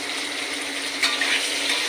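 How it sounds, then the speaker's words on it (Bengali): Pieces of pointed gourd (potol) fry in hot oil in a pan, giving a steady close hiss and sizzle throughout with no talking. "পটলটা ভাজা হচ্ছে।"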